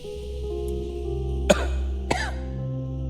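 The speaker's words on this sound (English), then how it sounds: "Cover your mouth when you cough." Two sharp coughs from a person, about half a second apart, cut through a steady low background hum and tonal music bed, close and fairly loud.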